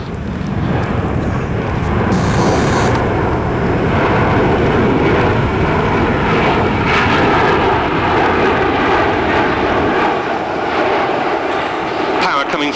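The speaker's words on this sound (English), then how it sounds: "Power coming from a pair of extremely quiet International Aero Engines, or IAE V2500 turbofans" Embraer C-390 Millennium military transport with twin IAE V2500 turbofans roars steadily and loudly throughout at an airshow, a broad continuous jet rumble with wind buffeting, while a commentator talks over it.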